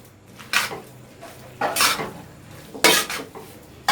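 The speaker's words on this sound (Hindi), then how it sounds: "अब हम इसमें नूडल हमने छान लिया, वो इसमें शामिल कर देंगे और इसको बहुत अच्छे से हम जो है मिक्स करेंगे।" Strained noodles are tossed with vegetables in a pan, giving three distinct metallic scrapes and clanks of the utensil against the pan over a faint sizzle.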